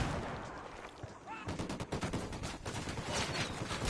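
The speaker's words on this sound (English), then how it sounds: "Throwing a flashbang. Lobbing a flashbang." A flashbang grenade goes off during a firefight in Ghost Recon Wildlands, a loud burst followed by rapid crackling gunfire that continues dense and close for several seconds.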